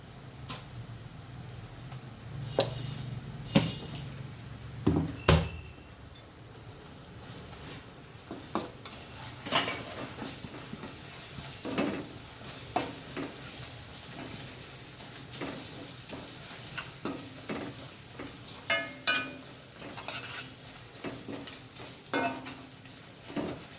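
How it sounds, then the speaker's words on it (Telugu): Ginger garlic paste fries in a pan for egg biryani. A faint, quiet sizzle sits under frequent spoon clinks and stirring scrapes against the pan. "ఇప్పుడు అల్లం వెల్లుల్లి పేస్ట్ వేసుకోవాలి"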